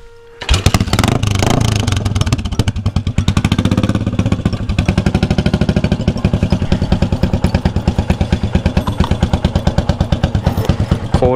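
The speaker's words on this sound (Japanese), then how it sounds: "エンジン始動。" A Yamaha SR400 custom chopper motorcycle kick-starts from cold and settles into a loud, close, thumping single-cylinder idle with a rapid, even rhythm of firing pulses.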